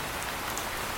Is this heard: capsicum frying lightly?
no